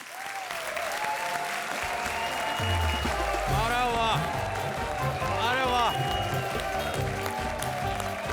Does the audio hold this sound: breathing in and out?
no